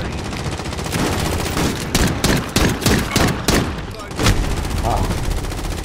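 Rapid pistol gunfire cracks loudly in Call of Duty: Modern Warfare, several quick bursts of shots in uneven clusters over a busy multiplayer battle background.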